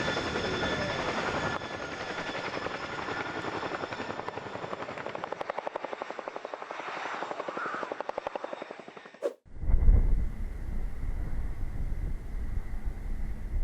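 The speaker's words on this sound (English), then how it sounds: "The Boeing CH-47 Chinook settles on its rear wheels, holds steady, then smoothly lifts back into reverse flight." A Boeing CH-47 Chinook twin-rotor helicopter settles on its rear wheels, holds a hover, then lifts back into reverse flight, giving a loud, steady rotor thump and turbine roar that cuts abruptly to a different, booming rotor wash.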